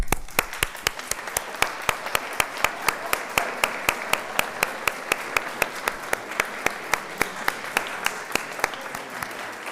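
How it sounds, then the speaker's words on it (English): Audience applause at a graduation celebration, a steady wash of many hands clapping with sharp individual claps standing out, sustained and fairly close for the whole stretch. "give them a big round of applause"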